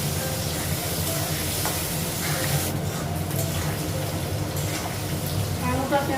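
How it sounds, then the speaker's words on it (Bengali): Diced potato and onion frying together in a pan give off a steady, soft, even sizzle that runs without a break. "আলুটা পেঁয়াজটা ভাজবো"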